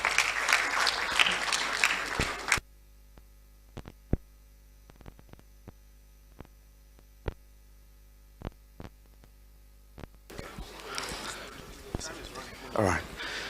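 Guests at a law alumni association launch are called up for a photo and applauded, with a burst of clapping at the start and again at the end, and faint clicks and mains hum in the quiet between.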